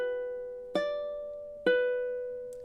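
A ukulele plays a short phrase from Jimmy Buffett's "Margaritaville", with three plucked notes, each left to ring and fade. Played alone, quiet and close.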